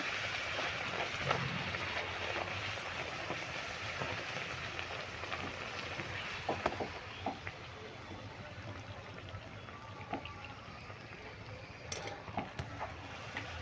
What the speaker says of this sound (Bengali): এইভাবে আমি সমস্ত কচুরিগুলো ভেজে নিচ্ছি